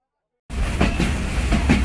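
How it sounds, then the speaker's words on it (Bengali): The Banglabandha Express pulls out of Abdulpur Junction station in Bangladesh, a steady loud rolling rumble with rhythmic wheel clatter building after a brief silent start. "আমাদের ট্রেন আব্দুলপুর জংশন স্টেশন ছেড়ে গেল"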